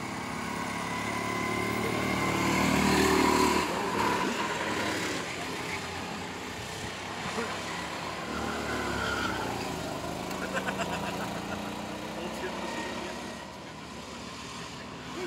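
Go-kart engines racing on an outdoor karting track, a continuous buzzing drone that swells and fades as karts pass through corners, steady and moderately loud throughout with no voices.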